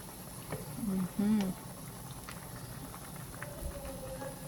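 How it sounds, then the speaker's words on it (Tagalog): Tinola fish soup boiling in a pot on the stove, a soft steady bubbling hiss close by while a voice speaks briefly over it. "Ayan, kumulo na."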